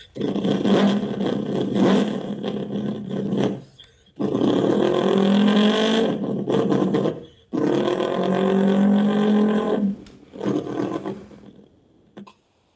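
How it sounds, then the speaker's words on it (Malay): A 1969 Dodge Charger engine revving hard and driving by, loud rising and falling roars in three long bursts separated by brief gaps, then a shorter final pull fading out. "Dengar tak berapa garangnya bunyi enjin tu?"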